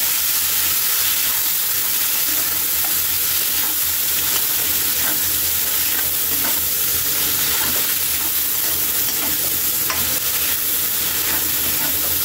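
Tomatoes, garlic and onion sizzle loudly in a hot pan for beef mechado while being stirred, a constant close frying hiss broken by irregular scraping and clinking from the stirring utensil.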